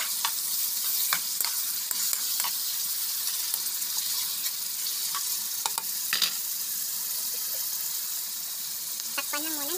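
Pork and chicken liver sizzle steadily in a pan for a Filipino ginamay dish, with frequent scraping stirs and clinks of the utensil against the pan, close and continuous.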